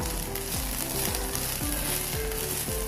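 Okra thoran frying in a pan while being stirred, a continuous bright sizzle with repeated scraping strokes of a spatula against the pan.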